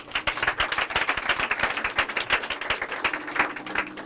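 A church congregation claps in acclaim of Jesus, a dense, steady run of many hands applauding together with a fairly even rhythm and a faint tone held underneath.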